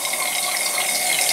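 Air bubbles out of a Venturi tube into water, giving a continuous hissing, gurgling rush that stays loud and steady from start to finish.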